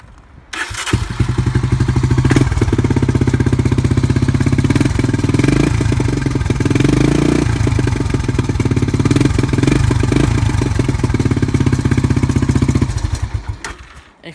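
A 1986 Honda TRX ATV starting cold on a chilly day, then idling loudly and close by with a steady, clattery putter, a ticking timing chain audible, and no talking.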